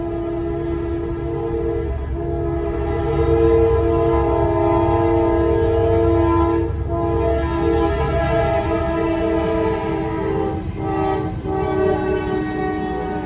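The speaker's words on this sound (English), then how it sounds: "I hope this train ain't gonna be too loud" A train rumbles past nearby for the whole stretch, loud and steady, with its horn sounding in long sustained blasts throughout and a brief break partway.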